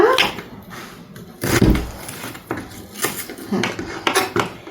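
Onions sliced with a knife on a cutting board while stir-fried sweet potatoes are being prepared, giving a series of sharp, irregular knocks and chops up close, with faint kitchen clatter between them.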